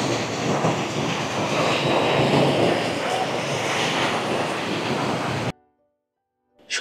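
Sea waves roar at night on the beach at Cox's Bazar, a loud, constant wash of surf that cuts off abruptly into near silence for the last second.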